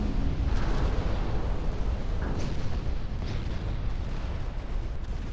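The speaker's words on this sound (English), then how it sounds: "we're starting to take the first torp hits" Torpedoes strike warships in the naval battle game Ultimate Admiral Dreadnoughts, heard as a continuous heavy rumble of explosions and booms with a few sharper impacts rising out of the roar.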